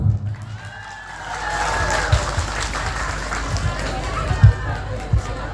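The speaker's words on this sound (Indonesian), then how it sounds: "Ibu-ibu, tepuk tangan untuk ibu-ibu." Applause from an audience of women at a Maulid Nabi commemoration, a broad steady wash of clapping with voices and a few sharp louder claps, fairly close and filling the whole stretch.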